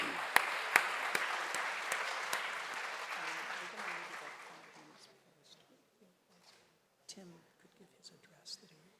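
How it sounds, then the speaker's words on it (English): Audience applause at a moot court final, a dense round of clapping that fades out over several seconds, leaving scattered claps and room noise. "give them a round of applause as well."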